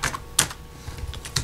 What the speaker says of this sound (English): let me type in this